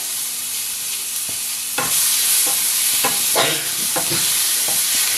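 Tomatoes and 4-5 green chillies fry loudly in a pan over a strong continuous sizzle that swells after the first couple of seconds, with several distinct stirring scrapes and taps, no speech.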